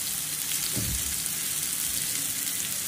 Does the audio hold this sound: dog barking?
no